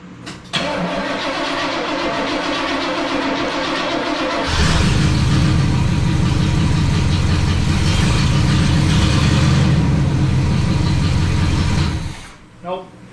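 A car engine with no hood turns over on the starter, the cranking whirring for a few seconds before the engine catches and runs loud and rough, then shuts off abruptly near the end.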